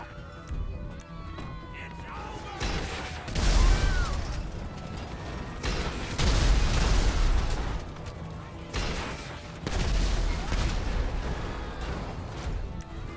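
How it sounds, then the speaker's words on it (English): Explosions erupt in the video game GTA 5, three heavy low booms spaced a few seconds apart, each swelling and then trailing off into rumble and debris clatter, with talk running beneath them. "let's cause some explosions"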